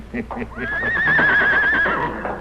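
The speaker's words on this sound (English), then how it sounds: "Maybe Apache Kid give back white horse, maybe not" A horse neighs in a radio drama sound effect, a loud, shrill, quavering whinny that holds for over a second before trailing off. A voice is heard briefly just before it.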